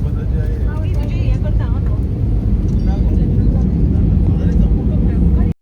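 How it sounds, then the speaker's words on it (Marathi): An airplane landing at Dabolim Airport in Goa gives a steady, loud cabin engine roar throughout, heard from inside with people talking over it. "दाबोलियम विमानतळ गोवे या ठिकाणी आता आमचा विमान उतरतोय"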